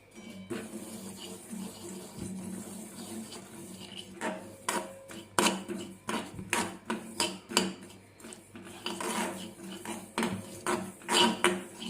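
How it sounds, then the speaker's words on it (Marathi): Poppy seeds are lightly roasted in a pan over a low gas flame, with a utensil scraping and clattering against the pan in an uneven run of close metallic knocks and rustles. "सर्वात आधी आपण हे खसखस हलकेसे गरम करून घेऊया"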